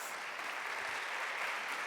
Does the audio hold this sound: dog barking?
no